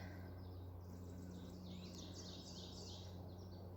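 Birds chirp and twitter faintly in the distance over a low steady hum, an outdoor scene with repeated high calls and no speech.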